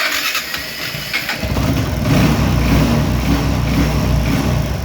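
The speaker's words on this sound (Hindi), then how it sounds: "तो देखिए फ्रेंड्स फाइनली ये बाइक स्टार्ट हो रही है।" A TVS Apache 160/180 single-cylinder motorcycle, running low on fuel, cranks and catches at about 1.4 seconds, then settles into a steady, loud, close idle that continues to the end.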